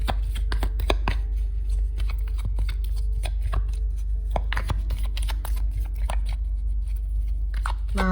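Tarot cards being shuffled by hand, a quick run of close, crisp riffles and flicks over a steady low background hum.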